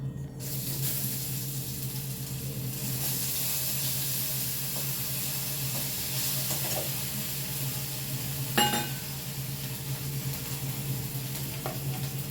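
Radhuni and fenugreek seeds tempering in hot oil with a broken dried chilli, a soft steady sizzle with light stirring scrapes and a sharp crackle near the end, fairly quiet and close.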